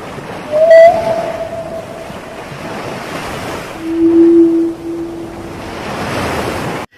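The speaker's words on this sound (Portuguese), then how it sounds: "as chamadas, os sons produzidos pelos cetáceos" Cetacean calls carry over loud ocean surf and wind: a short, higher tonal cry early on, then a longer, lower drawn-out call a few seconds later, both rising above the constant wash of waves.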